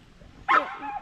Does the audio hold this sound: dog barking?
yes